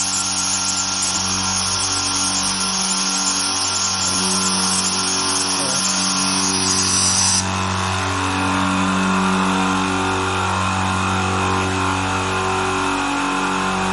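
A 2GALLI CS60100 oil-free 100-litre air compressor, 6 hp and 230 V single-phase, running with a loud steady motor drone. Its layered pulsing hum shifts as the pump groups restart in sequence, and no one talks over it.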